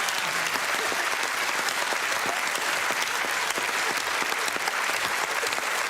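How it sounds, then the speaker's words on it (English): Studio audience applause filling the room with a thick, continuous patter of many hands clapping at a constant loud level throughout. "Let's have a round of applause, please, for Rex and Sam."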